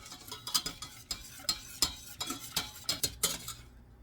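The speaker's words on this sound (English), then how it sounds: "Whisk the flour and the milk together, and then throw it on the heat" A whisk clatters against the sides of a hot pan as flour and milk are stirred together, making a quick, rhythmic series of close metallic taps that stop abruptly.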